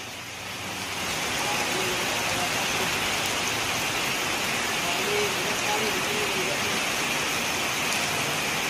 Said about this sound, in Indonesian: Wah, ini hujan deras nih, serius.